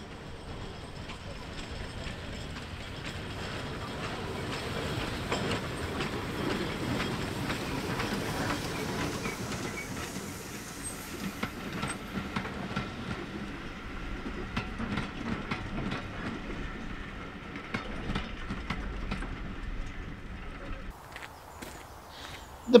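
A train passes near Newby Bridge in the Lake District, a steady rolling rumble with faint clickety-clack running through most of the stretch at moderate distance. It fades toward the end, and there is no talk over it.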